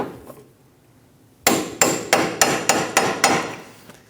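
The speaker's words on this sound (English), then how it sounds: "Using a hammer and a punch, we're going to stake our axle nut, go right in this slot." Eight sharp metallic hammer taps on a punch staking an axle nut on a 2008-2015 Scion xB wheel hub, evenly spaced and close, following a quiet pause.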